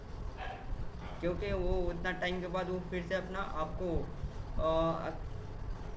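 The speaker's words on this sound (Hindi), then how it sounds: "कुत्ते भौंक रहे थे" Dogs barking outside, a few yelping barks in quick bursts partly under someone talking nearby, with a louder cluster near the end.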